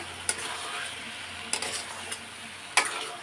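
Chana dal sautéing in a pan gives a continuous sizzling hiss with a few sharp spoon scrapes and clinks, close and fairly loud, no talk.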